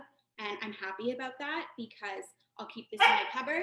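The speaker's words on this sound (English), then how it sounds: "That's my dog." A pet dog barks a few times near the end, overlapping someone talking in a kitchen while she prepares a spice dry rub.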